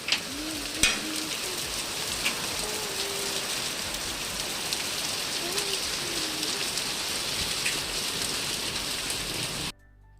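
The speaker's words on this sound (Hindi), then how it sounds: "तो इतनी ज़ोर की बारिश हुई है" Heavy rain pours steadily and close by as a dense, constant hiss of drops beating on surfaces, with faint voices underneath, before it cuts off abruptly near the end.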